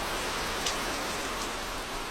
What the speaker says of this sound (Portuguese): Quando a chuva chega na Nova Guiné, nada nem ninguém escapa do dilúvio.